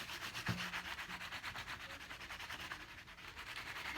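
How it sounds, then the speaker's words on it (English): A Dina Wakley Scribble Stick rubs steadily back and forth across a journal page, making a continuous close, dry scratching rasp with an even rhythm from start to finish, with no voices. "Then I'm going to put my shadow in, just rubbing it across."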